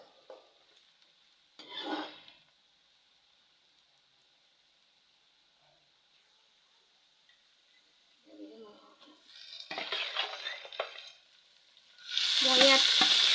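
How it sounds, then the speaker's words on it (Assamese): Onions and pork meat fry in a pan, with a steady hiss through the clip broken by bursts of stirring and sizzling; the sizzle swells loud and close near the end. "অলপ সময় আমি এতিয়া ভাজি থাকিম।"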